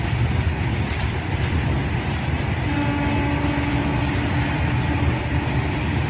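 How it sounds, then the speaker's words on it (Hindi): A freight train rolls past on the rails, a loud, steady broadband rumble with rail noise and a faint tonal hum, continuous and close throughout. "मालगाड़ी है ये तो, मालगाड़ी।"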